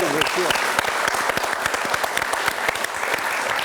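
Studio audience at a French television show applauding steadily and loudly throughout, a dense crowd of hands clapping without pause.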